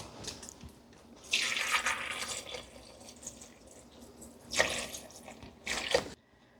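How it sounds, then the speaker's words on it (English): Distilled water poured into a container of rose petals, with bursts of splashing and trickling pouring that come and go in three separate pulses, close and fairly quiet, with no talking. "I'm going to pour just enough distilled water into that to just barely cover it."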